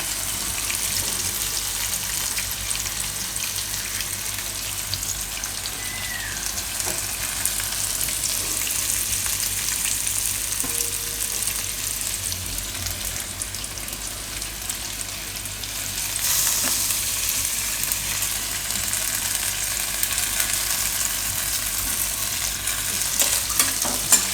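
Ingredients for pava appam frying and being stirred in a pan: a steady, close sizzle with occasional stirring scrapes, continuous throughout with no talking.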